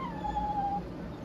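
A dog in the Tales of Berseria video game lets out one drawn-out whimpering whine over a steady, noisy game backdrop.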